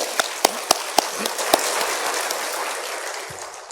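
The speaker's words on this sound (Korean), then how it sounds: "박수 한번 주님께 주세요" A church congregation clapping for the Lord, starting with a few sharp separate claps that blend into a wash of applause and then fade, heard from a short distance.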